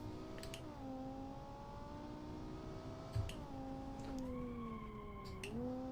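A V10 sports car engine in BeamNG rises through the revs in steady pulls, with brief dips at each gear change, a smooth harmonic whine sustained throughout at a moderate, fairly distant level.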